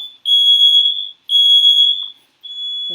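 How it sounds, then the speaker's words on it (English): A home kitchen smoke alarm shrills in loud, piercing high beeps, three long pulses separated by short gaps, close and alone with no voices. "Really sorry, the smoke alarm is going off."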